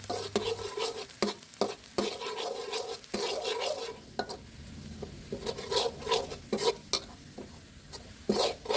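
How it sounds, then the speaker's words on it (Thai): Chopped Chinese garlic is stir-fried in hot oil in a pan, with busy spatula scrapes and clatters over a constant close sizzle. "ใส่กระเทียมสับลงไปผัดให้เหลืองหอมครับ"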